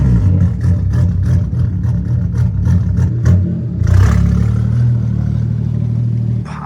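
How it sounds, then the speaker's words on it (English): BMW F80 M3 running an eBay single-turbo kit, its engine droning steadily with a rhythmic ticking clatter, then a louder wastegate-like rush near the four-second mark before the note settles into a steady hum. "The wastegate sounds a bit stupid right now"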